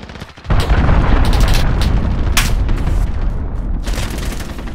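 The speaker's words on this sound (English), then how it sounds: "Allied cruise missile launched." A cruise missile strike in Call of Duty: Modern Warfare detonates with a sudden, loud, close boom after a brief quiet moment, then a dense roar of blast and crackling gunfire rumbles on for several seconds.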